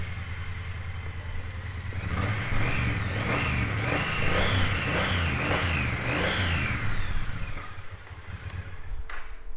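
A 2019 Triumph Bonneville T120 motorcycle, black edition, rumbles at idle and then revs in several rising and falling swells before settling back to idle, close and loud.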